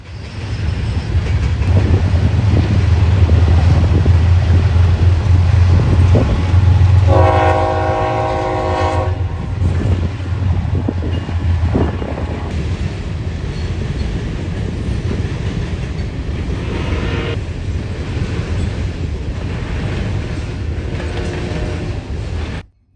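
CSX freight train B157, loaded with coke, rumbles past loud and close with a steady roar of rail cars, while its horn sounds prominently for a few seconds partway through.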